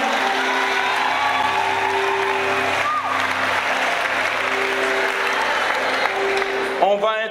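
A church congregation applauds in praise, a dense, sustained clapping that carries on without a break, with voices rising over it.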